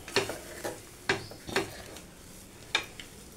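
Jackfruit cutlet mixture bound with bread crumbs being stirred by hand, giving a few soft, separate scraping and clinking strokes at an uneven pace, fairly faint and close, with no talking.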